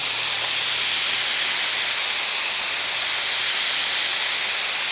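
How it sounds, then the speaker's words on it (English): A steady, loud hiss of an HVLP paint sprayer running continuously, spraying Sherwin-Williams Emerald Urethane trim paint, a bright airy spray noise with a faint low hum beneath. "So as we're going to be spraying at an overlap each time."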